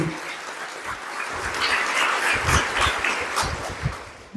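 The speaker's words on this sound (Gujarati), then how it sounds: "એકવાર જોરદાર તાળી" An audience at a college prayer competition gives a burst of applause, dense clapping sustained for several seconds with a voice faintly audible beneath it.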